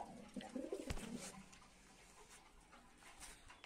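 Pigeons kept in an outdoor loft coo softly and intermittently, with a few brief calls near the start and a faint, steady outdoor background.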